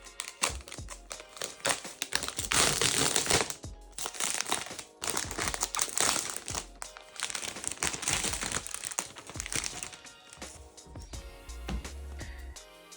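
Protective plastic film crackles and crinkles steadily as it is peeled from a matte silver Dell Precision 5570 laptop, a close, continuous crinkling with short pauses and no talk.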